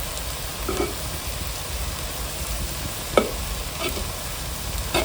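Tomato egg rice being stirred in a frying pan over low heat, with a soft steady sizzle underneath and a few scrapes and knocks of the spatula against the pan, close and fairly quiet with no talking.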